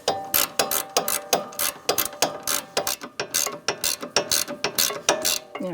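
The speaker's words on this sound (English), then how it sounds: "18mm ratchet wrench or wrench on the bottom. I'm going to tighten it until that stud starts to turn." An 18mm ratchet wrench clicks in a steady, quick rhythm while tightening a sway bar link on a Jeep Renegade, the sharp metallic ticks loud and close with no talking.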